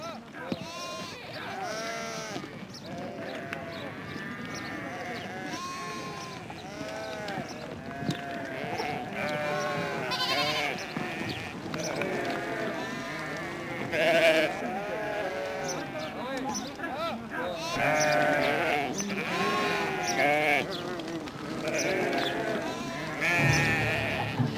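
A flock of sheep bleats over and over, many overlapping wavering calls near and far that keep up without a break, mixed in with other livestock sounds and what may be voices in the background.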